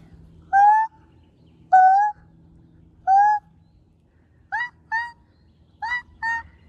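A voice imitates pigeon cooing in repeated hooting calls: three single hoots, then paired ones, spaced evenly over a quiet background.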